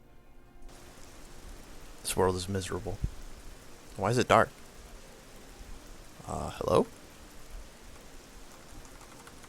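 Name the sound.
rain in the video game Oblivion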